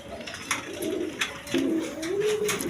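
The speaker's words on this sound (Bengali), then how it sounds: "এখানে এক পেয়ার শৌখিন কিং কবুতর আছে" A pair of fancy King pigeons coo repeatedly at close range, their low rolling calls rising and falling over light background noise and occasional soft knocks.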